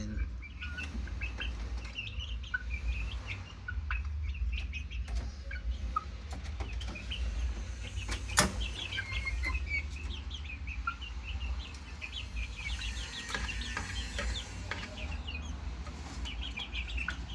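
Two-month-old chickens clucking and chirping in short bursts over a steady low hum, with occasional sharp bird calls, fairly faint and continuous throughout.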